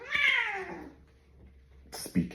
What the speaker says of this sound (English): Speaking of cats.